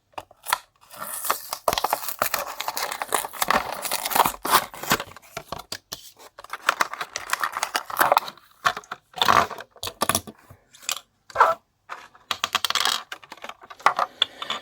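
Crinkling, tearing and clicking of plastic and cardboard packaging as a Mattel Disney Cars diecast toy of Mike Stockar, Transberry Juice Pitty #63, is opened, with irregular close bursts of rustling and snapping separated by short pauses.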